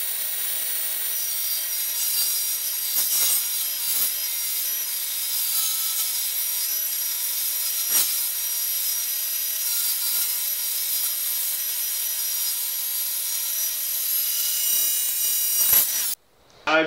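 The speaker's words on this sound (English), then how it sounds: "I'm just gonna cut out one of each strip out of this, covering the full length of this" A saw cuts strips of wood in one long, steady, close rasping run that continues almost without a break, with a few faint knocks along the way, then stops abruptly near the end.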